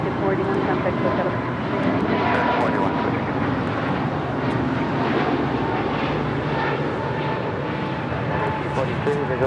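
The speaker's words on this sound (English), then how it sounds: "American Airlines 481 taking off to Philadelphia on an A321 Neo" American Airlines A321neo taking off at LAX, bound for Philadelphia: a loud, continuous jet engine roar that stays fairly even throughout, with talk running over it.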